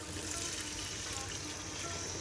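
Cup of water poured into a masala paste with red chili powder and turmeric for Chettinad chicken curry, a soft, steady splashing pour that continues evenly throughout at low volume.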